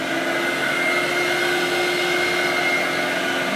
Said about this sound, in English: First of all, you'll hear vacuum motor number 2 come on.